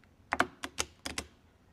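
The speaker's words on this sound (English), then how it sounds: "My left hand picks these cards up and I'm actually going to shuffle the cards together." A deck of playing cards is riffled together in a few quick crisp bursts of fluttering clicks, close and fairly quiet, with no talk.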